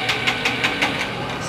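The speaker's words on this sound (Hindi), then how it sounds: "अब सेल मार रहा हूँ" A Yamaha YBR motorcycle with a starting fault is cranked on its electric self-starter, giving about five quick, evenly spaced whirring pulses that do not catch, then a steady hum, heard close up.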